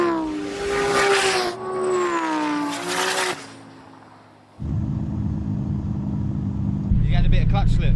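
A 1,000-horsepower car launches with a bit of clutch slip: a loud, close, rising engine wail with shifting pitch, a brief drop, then a harsh, sustained rumbling roar that grows heavier near the end.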